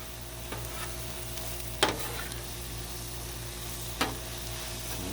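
Black pepper chicken frying on a flat-top Blackstone griddle, with a steady low sizzle running throughout and two sharp scraping clacks of a spatula partway through.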